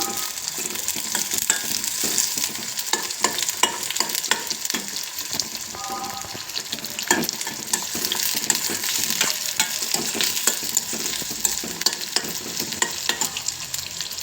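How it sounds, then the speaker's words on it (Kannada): Eggplant pieces frying in oil in a pan for vangibath, a steady close sizzle broken by frequent scraping and clacking strokes of a spoon stirring throughout. "ಎಣ್ಣೆಯಲ್ಲೇ ಸ್ವಲ್ಪ ಇದನ್ನು ಬೇಯಿಸ್ಕೋಬೇಕು"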